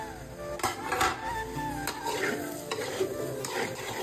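Potatoes for a Tamil potato poriyal fry in a pan while being stirred, giving a steady sizzle broken by repeated scraping strokes of the spoon, close up with no talking.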